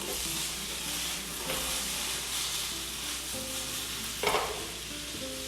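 Potatoes and salt for a Spanish tortilla sizzle steadily in a frying pan while being stirred and turned, with a constant hiss, occasional scraping clinks and a sharper scrape near the end, over soft background music.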